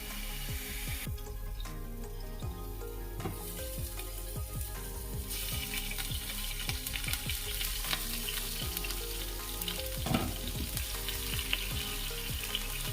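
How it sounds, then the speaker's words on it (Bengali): Bitter gourd sizzles steadily in hot oil, a continuous faint crackling hiss dotted with small pops and spits, with no voices. "আমার উচ্ছেটা ভাজা ভাজা হয়ে গেছে"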